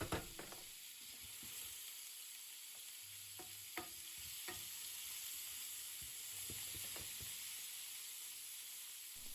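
Potatoes sautéing in a frying pan as a steady sizzle with scattered scraping and tapping of a utensil, close and continuous, with no talking.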